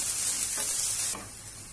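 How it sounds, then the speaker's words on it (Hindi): Finely chopped onion sizzles steadily in a pan, a close, continuous hiss that softens slightly near the end as it is stirred. "अब मुझे प्याज को थोड़ा भुनना है"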